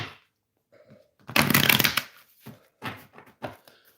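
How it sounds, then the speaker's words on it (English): Tarot cards are shuffled in a quick riffling burst, followed by a few shorter taps and shuffles, close and clear without speech. "So as we shuffle,"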